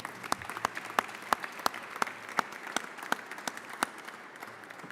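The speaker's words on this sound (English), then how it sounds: "Let's have a round of applause for our private partners" A ceremony audience honoring San Francisco firefighters claps for private partners, a moderate round of applause with sharper individual claps standing out from the steady patter.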